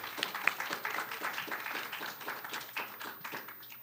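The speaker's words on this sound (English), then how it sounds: "Let's give them a round of applause." A small audience claps for a presenting student team at a nanoscale microscopy summer program's final presentations, a light, uneven patter of separate hand claps, fairly faint and steady throughout.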